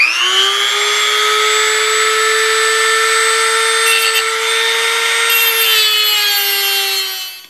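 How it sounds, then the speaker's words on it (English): A power tool cuts through the heads of stuck bolts on a South Bend shaper being restored, producing a loud, steady, high-pitched whine that holds for several seconds before tapering off. "Plan B is to cut the heads off."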